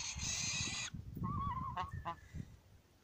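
A young saker falcon, Falco cherrug, taking its first steps around a yard gives short grunting and squeaky calls, close and fairly loud, following a loud broadband burst at the start.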